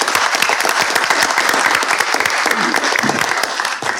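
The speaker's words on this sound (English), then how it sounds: "can I just have the privilege to invite all of you to give a big round of applause to Mr. Nandan Unnikrisnan." An audience applauds continuously, a dense steady clatter of many hands clapping at close range.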